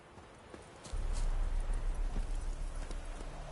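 Hooves of Roach, the horse in The Witcher 3, clip-clop steadily on the ground, starting soft and then growing louder and close as the horse moves off at a brisk, even pace.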